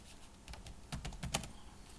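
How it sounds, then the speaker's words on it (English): Rapid, uneven keystrokes on a loud, clacky computer keyboard, a few sharp clusters of clicks standing out close and distinct over a quiet room. "sorry for this noisy keyboard"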